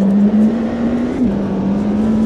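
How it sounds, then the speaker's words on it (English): McLaren Senna launching from a standstill on launch control in Automobilista 2, a single loud engine note climbing steadily in pitch, dipping briefly at a gear change and then rising again, heard alone. "McLaren Senna. Launch control. 3, 2, 1."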